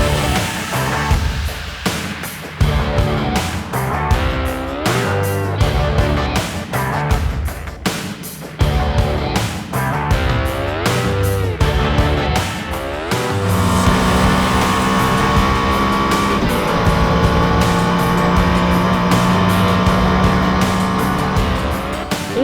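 Koenigsegg Agera RS supercar of 1,360 hp revving hard, repeated rising engine sweeps and sharp gear changes for about thirteen seconds, then settling into a steady loud drone with a high whine.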